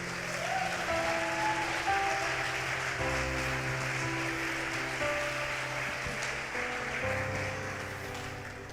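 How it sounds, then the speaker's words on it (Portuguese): During a church sermon on leadership, the congregation claps for the Lord, a steady, moderately loud wash of applause with sustained instrumental music playing underneath. "Pode aplaudir o Senhor com força."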